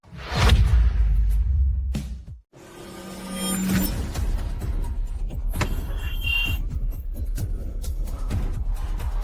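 A car hurtles in loudly with a rushing whoosh, then the sound drops away abruptly as it halts, followed by quieter idling, shuffling and a brief tonal whine.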